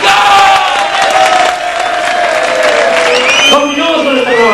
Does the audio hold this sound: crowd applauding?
yes